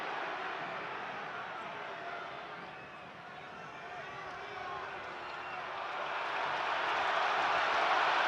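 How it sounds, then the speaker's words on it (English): Large Croke Park rugby crowd at an Ireland v Scotland match, a continuous loud roar of many voices swelling toward the end as the crowd urges a heave. "Heave, cries the Croke Park crowd."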